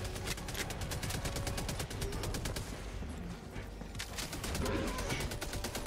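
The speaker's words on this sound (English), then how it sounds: "Machine gun go!" Sustained machine gun fire in the video game Helldivers, a dense rapid stream of shots that briefly lets up midway and then resumes, loud and continuous, with a voice faintly underneath.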